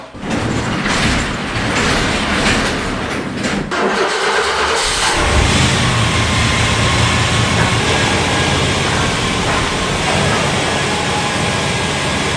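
A 1997 Chevrolet work pickup runs outdoors in snow after a brake line repair; the engine starts with a rough burst and then settles into a loud, steady rumble that continues throughout.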